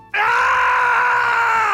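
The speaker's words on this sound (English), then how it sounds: "his falling death scream is brutal" A loud, sustained scream from the werehog in the Sonic Unleashed video game as it falls to its death, a single strained cry that holds steady for over a second and a half before cutting off.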